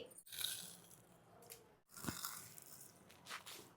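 Close-up crunchy bites and chewing of fried breadcrumb-coated chicken pockets, a few crisp crunches spaced apart with quieter mouth sounds between, no talking.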